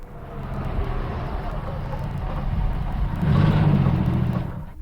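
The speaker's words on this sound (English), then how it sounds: "Now let's hear the car come back." A car drives back toward the listener, its engine hum rising and growing louder as it nears and passes close, then fading slightly at the end.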